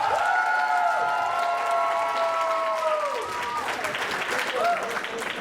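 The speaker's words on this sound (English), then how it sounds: "I think you should give them another big round of applause." An audience at a university international dinner breaks into a big round of applause for the event organizers, sustained clapping and cheers while a sustained tone fades and a voice carries over the top.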